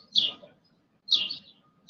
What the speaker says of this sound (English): You hear them birds out here trying to attack your boy.